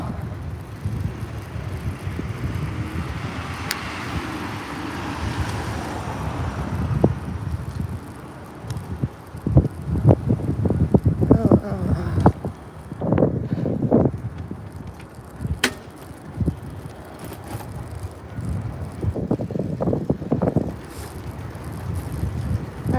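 Strong wind buffets the microphone during a cold early-morning bicycle ride to work, a steady low roar with gusty bursts and rumbling swells throughout.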